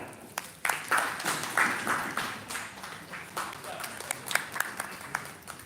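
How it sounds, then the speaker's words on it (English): Scattered clapping from an audience, uneven and moderately loud, with a few sharper claps standing out. "A huge round of applause, please."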